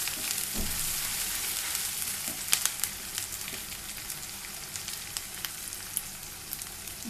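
Ginger garlic paste frying in a pan for a fish curry, a steady dense sizzle with small crackles and pops throughout, close and alone with no talk.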